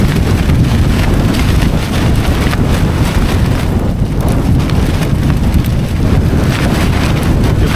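Strong wind blowing hard over a tent, a loud continuous roar that buffets the microphone throughout, with no talking.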